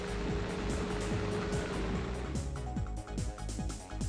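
A rally car engine in the MS-DOS game Screamer Rally drones continuously, its pitch rising and falling with gear changes and revs, a steady synthetic roar throughout.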